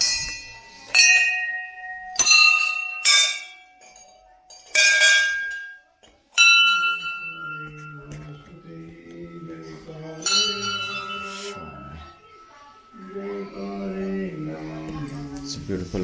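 Temple bells ringing at a mandir on the Panch Kedar trek in the Himalaya: several sharp, close metallic strikes with long ringing decays, followed by quieter voices and softer tones.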